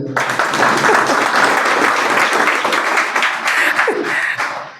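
A crowd at a religious discourse bursts into loud, sustained applause, many hands clapping densely together for several seconds before it begins to fade.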